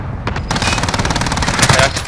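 Rapid machine gun fire in a multiplayer shooter game, a loud continuous burst of closely spaced shots lasting about two seconds, with faint talk underneath.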